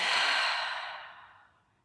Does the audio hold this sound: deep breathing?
yes